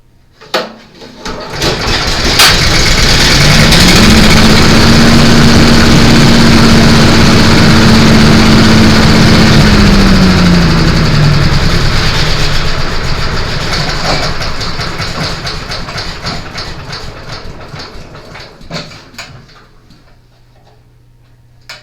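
Snow blower engines run loud and close in a steady mechanical roar, one tone climbing then holding and sliding back down before the noise fades toward the end; no talking.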